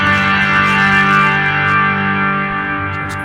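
Electric guitar played through a Line 6 Pod Go with a heavy reverb mix, a sustained distorted chord ringing out in a thick wash of reverb that slowly fades.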